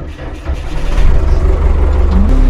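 A bulldozer engine starts up, its low rumble rising sharply after a brief moment and settling into a loud, steady diesel drone.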